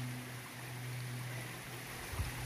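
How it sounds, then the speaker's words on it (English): Kilby Creek on the Appalachian Trail flows as a steady, faint broadband rush of water, continuous and even throughout, with a low hum underneath and no talk. "This must be Kilby Creek."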